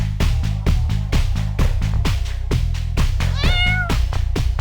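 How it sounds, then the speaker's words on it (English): A pet cat gives one short, close meow, heard under a loud, steady thumping dance beat with no talking. "Come here, kitty."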